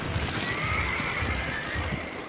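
A wild horse on open rangeland gives a long, wavering neigh that rises and falls over a couple of seconds, moderately close against a low rumbling background with faint thuds.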